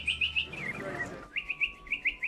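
A person whistling in imitation of a bird call: repeated short, high chirping trills in a quick rhythm, faint and close, broken briefly by a lower voiced sound.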